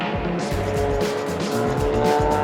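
Race cars roar around a track at an endurance race, with a Miata close behind, engines revving in fast rising and falling pulls and tires squealing, heard from inside a car.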